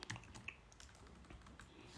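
Keyboard typing as a command is entered in a terminal, quiet scattered key clicks over a faint steady background hiss, no talking.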